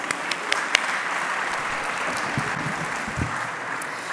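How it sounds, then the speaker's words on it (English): Applause from a conference audience greets speaker Tanja Kristova, a moderate, even patter of many hands heard from within the room, with a few sharper claps near the start, lasting about four seconds. "please a big applause for Tanja Kristova"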